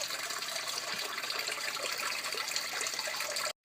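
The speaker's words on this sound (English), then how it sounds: "rinse several times here to get the excess salt off and whatever dirt that was in there" Running tap water rinsing salted napa cabbage for kimchi makes a steady, soft gushing splash that continues alone, then stops abruptly at the end.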